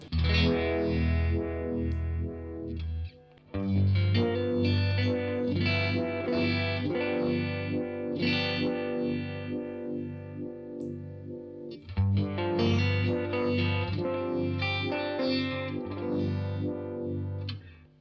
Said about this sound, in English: If I was to switch it down to vintage, it would sound more like the MXR version